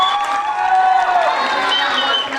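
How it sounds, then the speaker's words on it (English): Crowd applause and cheering at a high school winter band concert, honoring a returning double bass player, loud and sustained with some shouting mixed in. "Please give him a round of applause."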